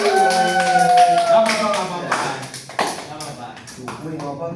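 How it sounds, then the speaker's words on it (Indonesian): A classroom of students clapping together after a teacher's praise, a ragged burst of applause that rises and fades under a teacher's speaking voice and a brief ringing tone. "Boleh tepuk tangan"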